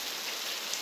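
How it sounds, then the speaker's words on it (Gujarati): Rain falling in a village, a steady soft hiss of drops on surfaces, faint and even throughout. "વરસાદ સારો પડે છે।"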